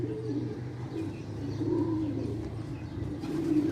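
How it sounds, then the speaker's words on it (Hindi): Pigeons coo softly at a rooftop loft in Karachi, low repeated coos with faint chirps and a light wing flutter over steady background noise. "बाकी कबूतर भी आ चुके हैं"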